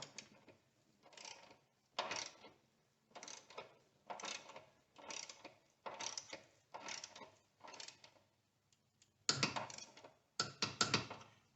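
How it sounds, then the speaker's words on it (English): Torque wrench clicking and ratcheting on the upper strut bolts of a 2002–2007 Toyota Highlander, in about a dozen separate bursts of quick mechanical clicks with short pauses between, the last few louder and closer. "I like to torque these before I torque the bottom ones, because I'd like to make sure this is seated right"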